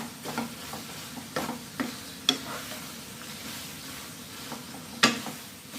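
Crab being stir-fried with curry powder into a thick sauce, with soft sizzling under scattered scrapes and clicks of the spatula in the pan, fairly quiet and close, with no talking.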